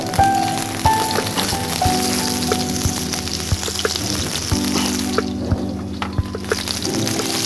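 Small shallots sautéing in hot oil for a potato crab fry, a steady close sizzle with a few faint clinks and background hum, no voices.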